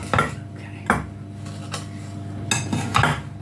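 Raspberry pie filling stirred in a bowl, a spoon knocking and scraping against the sides with a few sharp clinks at irregular intervals over a low background hum.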